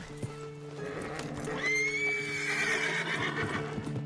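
Horse in Red Dead Redemption 2 gives a loud, drawn-out whinny near the middle, with clip-clopping hooves before and after against a steady game background hum.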